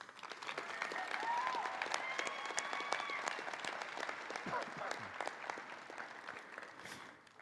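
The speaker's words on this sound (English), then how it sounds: "Please give the family and friends a round of applause" Audience applause at a PharmD class pinning ceremony, steady clapping from a crowd of family and friends, fairly soft and distant, with a few faint voices and whoops under it before it fades at the end.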